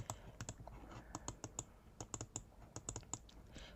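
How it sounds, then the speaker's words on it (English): Computer keyboard keys pressed in quick, irregular bursts of sharp, close clicks during web design work in Figma, about two dozen taps with no talking. "I'm going to click on K on my keyboard"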